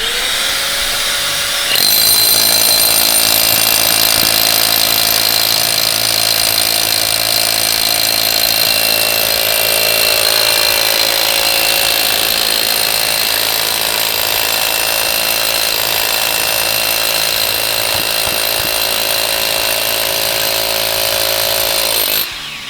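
Powered drilling into concrete with hammer-drill tools while setting anchors, a steady loud grinding whine running continuously for about twenty seconds, close up with no talk.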